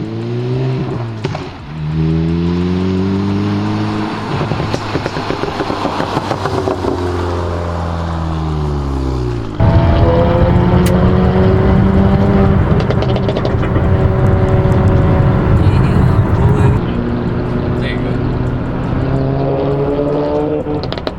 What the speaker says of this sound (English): now that I have some modifications on my exhaust, the pops are insane